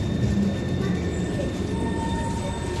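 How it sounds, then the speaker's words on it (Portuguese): A driverless metro train running, with a loud steady rumble of wheels on rail, faint squeal tones and an interior hum heard from on board, no voices. "Metrô sem condutor."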